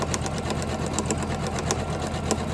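Janome 500e embroidery machine sewing a brick stitch, a steady fast mechanical whir with rapid needle ticks running continuously and close.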